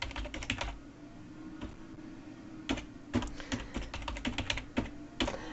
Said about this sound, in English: It sounds like there's a thunder of little elephants going across my keyboard.